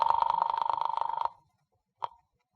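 An old-style telephone bell rings in a rapid trill for over a second after the office is dialed, then gives one short final ring.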